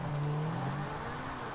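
A car engine drones at a steady mid pitch while driving in GTA V, with a sustained hum that softens slightly, and no talk.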